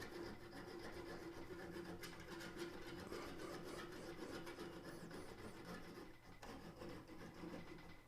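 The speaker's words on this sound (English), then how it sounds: "I'm going to cut off that little" A small wooden nub is cut off a woodturned lidded box, giving a faint, steady rasping scrape that runs for several seconds with a brief pause near the end.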